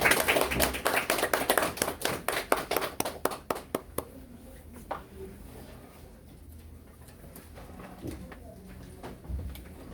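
Scattered applause from a small audience at an admissions briefing greets an arriving speaker, with distinct individual claps that are close and fairly loud for about four seconds, then die away into quiet room noise.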